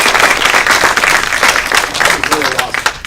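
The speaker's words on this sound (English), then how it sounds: "let's give them another round of applause" Loud, close applause from the audience at an Asian committee gathering, rapid overlapping claps forming a thick wash, with a voice briefly audible near the end.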